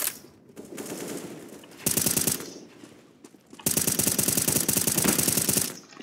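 Automatic rifle fire in the video game CS:GO, loud and close, coming in two long rapid bursts separated by quieter gaps, the second burst sustained for about two seconds.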